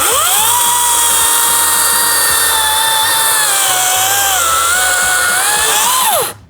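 A loud, steady power saw whines through a cut for several seconds, pitch wavering slightly, then spins down at the end.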